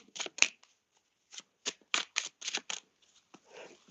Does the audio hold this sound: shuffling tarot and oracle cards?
yes